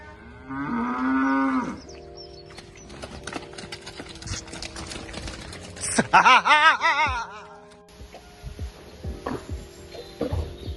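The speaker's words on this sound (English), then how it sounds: "We moved up cows that are getting close to calving" A Jersey cross cow close to calving moos loudly and close by, followed by hoof clatter, shuffling and another drawn-out bellow among the noises of a busy pen.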